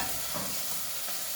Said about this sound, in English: The onions are in now, softening.